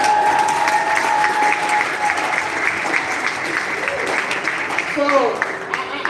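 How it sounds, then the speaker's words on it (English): A room full of people breaks into steady applause at a gathering of content creators, with a voice briefly heard talking over the clapping. "That deserves a round of applause."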